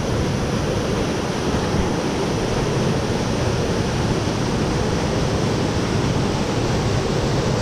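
King's Waterfall in a gorge roars with a dense, steady rush of falling water, loud and unbroken throughout, with no voices.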